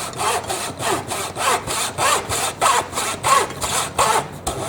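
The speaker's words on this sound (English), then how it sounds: "I am sawing my wood." A Japanese Zona 24TPI pull saw cuts through wood in a steady series of about ten close, rasping strokes, each rising and falling in an even back-and-forth rhythm.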